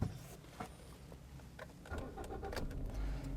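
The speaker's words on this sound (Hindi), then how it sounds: "मैंने गाड़ी को जो है स्टार्ट कर लिया है" A 2018 Toyota GLI 1.3 being started with the key: a brief crank and catch, then the engine settles into a steady, close idle, with no one talking.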